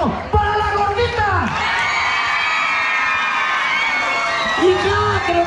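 Crowd at a jaripeo bull-riding event cheering and whooping loudly, with high shouts and sustained yells swelling together in a continuous roar.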